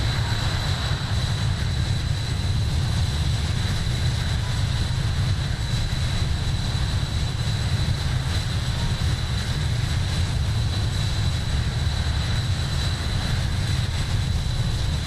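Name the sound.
Palita Air aircraft engine in Microsoft Flight Simulator video game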